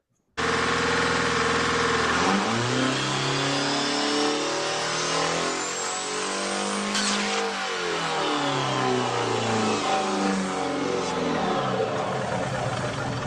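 A modified truck engine revs hard and repeatedly, loud and close, with rising and falling pitch sweeps and brief idle stretches between bursts, running steadily with no talk.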